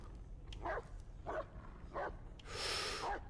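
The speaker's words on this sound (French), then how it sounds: "J'essaie de suivre ses aboiements." Four short video game dog barks in a slow, uneven rhythm, the last one harsher and louder, over a low background hum.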